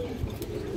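Small pigeons cooing softly and steadily at close range in a market setting where pigeon pairs are sold, a brief low murmur of bird calls.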